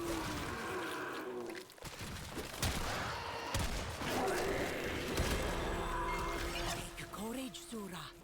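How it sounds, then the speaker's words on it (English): Explosions from the video game Warframe: dense, heavy bursts and rapid gunfire-like blasts that run almost without a break at steady loudness, with voices talking over the chaos. "There's a bunch of explosions."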